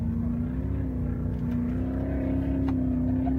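An off-road race vehicle at Parker 425 qualifying drones as a steady, loud engine hum with a slight rising pitch, continuous throughout, with no voices.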